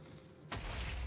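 Explosions in the Minecraft Nether, detonating and bouncing off ancient debris and each other: one sudden deep boom midway, followed by a sustained low rumble.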